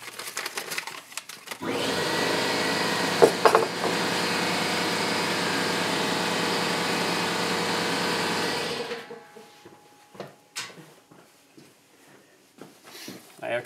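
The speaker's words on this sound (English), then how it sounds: "My air compressor always starts when I get online." An air compressor starts and runs steadily in a workshop for about seven seconds, a loud droning hum, then cuts off, followed by quieter clatter and handling noises.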